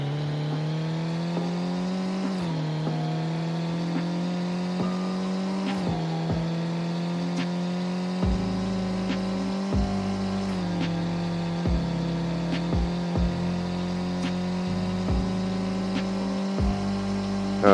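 Simulated Nissan Silvia S15 engine in a Roblox car game top speed run, a steady droning engine tone that climbs gradually in pitch, with brief dips at gear shifts, heard alone and close.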